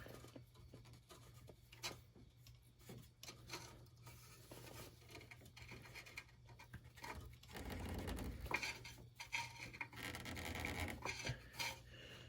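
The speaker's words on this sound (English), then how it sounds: "Slide our hose on there." A rubber hose pushed and worked onto a transmission cooler fitting on a 1977 Ford F150 4x4 pickup, giving close, soft rubbing and scraping handling noises in irregular bursts over a low steady hum.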